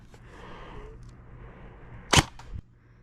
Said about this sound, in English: Let's give it a test on the chrono.